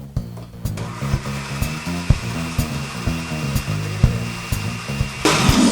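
A blender whirs steadily while mixing vegan mayonnaise, a continuous motor hum with a faint rhythmic pulsing that swells louder near the end.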